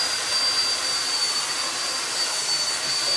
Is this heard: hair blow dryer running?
yes